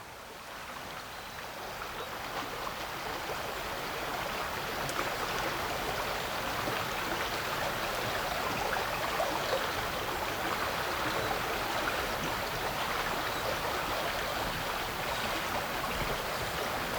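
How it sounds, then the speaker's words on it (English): Gin-clear chalk stream water flowing steadily beneath a small footbridge at the top of the River Itchen in the South Downs, a continuous close rushing wash with no voices. "probably the most spectacular chalk stream in all of the world"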